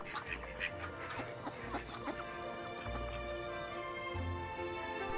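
Ducks on a pond in a summer country park, a string of quacks and honks standing over a low steady outdoor background, near and moderately loud, with no talk.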